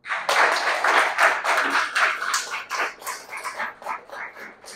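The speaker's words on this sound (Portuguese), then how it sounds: "Você merece um aplauso." A small group claps at a religious workshop, a short burst of uneven hand claps that thins and tapers out toward the end, with no talk over it.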